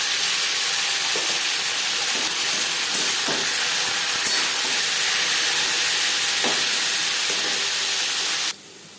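Bitter gourd frying in oil for a vegetarian pea dal, a loud continuous hiss of sizzling oil that holds steady, with a few soft knocks, then drops away sharply at the very end.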